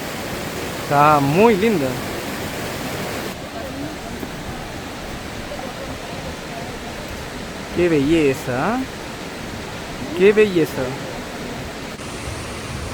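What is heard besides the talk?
40-metre Dora waterfall between Chile and Argentina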